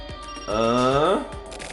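A phone rings once in a video game, a single bright, warbling burst of about three-quarters of a second that stands out clearly over a quiet background.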